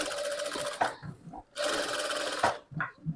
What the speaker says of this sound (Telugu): ఇప్పుడు ఇది మనకు ఈ లైన్ ఎక్కడైతే ఉందో ఈ లైన్ పైన ఒక స్టిచ్ వేసుకోవాలండి.